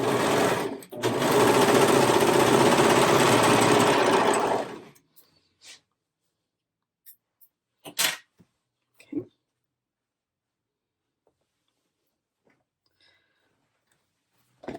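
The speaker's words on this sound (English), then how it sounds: "And these I can sew together along the top edge." A sewing machine stitches crew neck sweatshirt pieces together along the top edge, running steadily for about five seconds before stopping, then a few faint clicks and handling taps in near silence.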